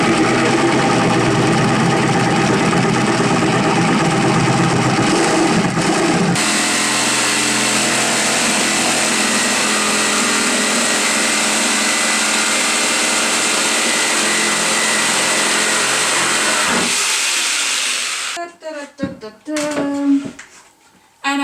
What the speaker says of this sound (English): I'm using a Blake & Decker cheap, super cheap jigsaw.